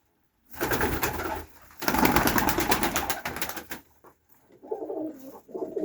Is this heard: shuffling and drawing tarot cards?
no